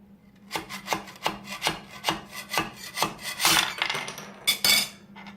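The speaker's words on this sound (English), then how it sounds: "We're gonna take our scraper and just" Scraper scraping a freshly finished 3D print off the warm bed of an AnyCubic i3 Mega printer, repeated rhythmic rasping strokes, close and fairly quiet, with a faint steady hum beneath.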